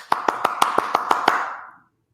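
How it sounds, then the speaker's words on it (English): A person applauds in a steady, even rhythm: eight crisp, evenly spaced hand claps, close and clear, that stop and leave a short fading tail. "or we applaud."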